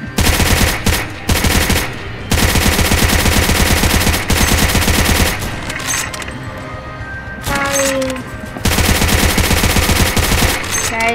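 A gun fires in a zombie video game, loud rapid bursts of shots in several long runs separated by short pauses, with a few brief game sound effects between the volleys.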